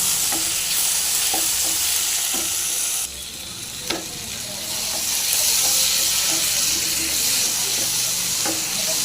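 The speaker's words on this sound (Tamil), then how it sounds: "தக்காளி சேர்த்து நல்லா ஃப்ரை பண்ணுவோம்" Tomatoes fry in a pan for a dry fish fry, giving a loud, steady sizzle up close with scattered clicks and scrapes of a spoon stirring through them.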